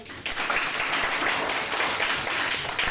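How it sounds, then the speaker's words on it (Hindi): A class of students claps continuously in a dense, even burst of applause, fairly loud and close, sustained for the whole stretch. "बहुत बढ़िया, ताली बजाओ तो इसके लिए।"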